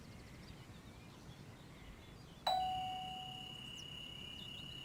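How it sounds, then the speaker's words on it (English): A door-closing chime rings out once on a Dutch passenger train on the Zwolle–Groningen line in Train Sim World 5, a clear two-tone ding that lingers and fades over a quiet hum. "Close the doors before departure."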